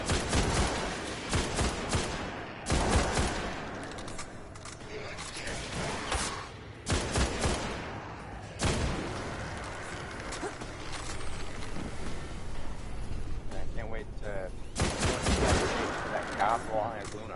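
Rapid gunfire from a scout rifle in the video game Destiny, loud and dense, with repeated bursts of shots and clattering impacts continuing through most of the stretch, with brief lulls between volleys.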